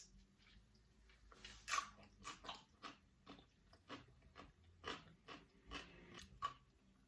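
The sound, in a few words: biting into a crunchy dill pickle disc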